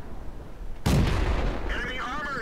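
An enemy tank's main gun fires in the World of Tanks video game. One sharp, heavy boom is followed by a rumbling tail, and a voice comes in over the decay.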